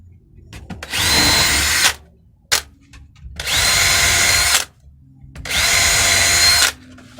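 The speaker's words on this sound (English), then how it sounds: "we're going to get these screwed, the holes drilled and screwed in" A power drill bores holes into a wooden planter in three loud, close bursts of steady whining, each about a second long, separated by short quiet pauses.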